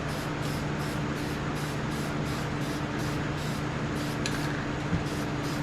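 Steady hiss of paint spraying a thick single coat onto the door hinge of a 1982 Ram Charger, continuous and close with no talk.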